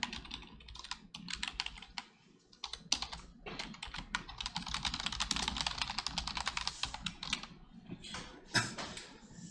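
Rapid, uneven typing on an unfamiliar classroom computer keyboard, a steady patter of close, crisp key clicks with brief pauses, no talk.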